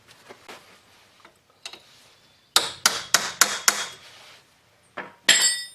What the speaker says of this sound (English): take a hammer and a punch and just pop that back to make sure it's loose